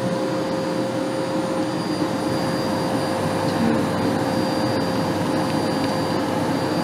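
A Miele Blizzard CX1 Excellence Powerline bagless vacuum cleaner runs on carpet with a loud, steady motor drone and rushing airflow, continuous and close, with no voices.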